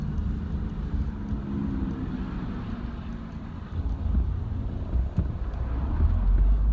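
A car drives along a road, heard from inside as a steady low rumble with wind noise, continuous and fairly loud throughout, with no voices.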